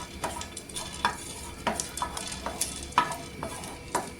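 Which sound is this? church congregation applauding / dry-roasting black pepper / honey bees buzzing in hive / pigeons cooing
dry-roasting black pepper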